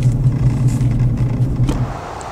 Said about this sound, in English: You can hear the traffic in the background.